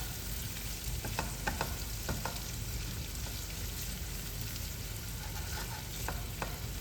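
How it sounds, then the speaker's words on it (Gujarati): Green chillies and curry leaves fry in hot oil for papad poha chevdo, a steady close sizzle with occasional sharp crackles and pops, no voices. "મરચાં અને લીમડા બંનેના અંદરનું મોઇસ્ચર એકદમ સરસ બળી જાય અને ક્રિસ્પી થાય ત્યાં સુધી આપણે આને તળવાનું છે."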